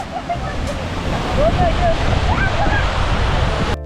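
Lauke Jharna, a hidden waterfall near Kathmandu in monsoon season, gives a loud, steady broadband roar with gusty wind buffeting the microphone and a few faint high chirps over it.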